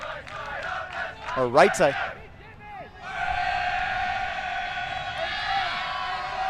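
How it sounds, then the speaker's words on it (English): Great Britain supporters at a mixed ultimate frisbee match against Australia start a chant from the side of the pitch, a crowd cheer rising and sustained behind a commentator talking close up. "GB and a few other folks, I don't know if you can hear them, are starting the cheer for"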